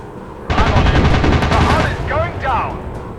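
Rapid gunfire from a warplane in the video game Warplanes, a dense, loud burst of machine-gun fire lasting a few seconds, with someone speaking over it.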